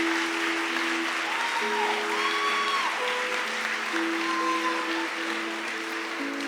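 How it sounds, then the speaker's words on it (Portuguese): A church congregation breaks into sustained applause, a steady dense clapping that fills the room throughout, with held organ or keyboard tones sounding underneath. "Será que você pode aplaudir a Jesus?"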